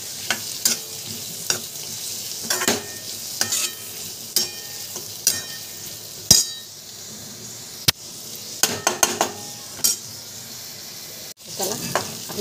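Vegetables stir-fry in a pan with red chili masala, a soft sizzle broken by repeated scraping strokes of a spatula and occasional sharp clinks, close and intermittent.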